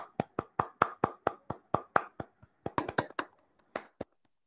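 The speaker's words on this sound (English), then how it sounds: "please join me in thanking our speaker with a round of applause" A few people clap at the end of a galaxy-evolution talk, about two dozen sharp, separate claps, close and fairly quiet, in an uneven rhythm that thins out into single claps.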